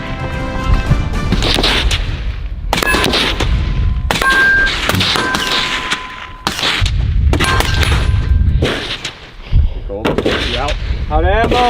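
Loud, sharp gunshots crack in repeated bursts during Navy SEAL shoot-and-move training, with short pauses between volleys and voices shouting among the shots.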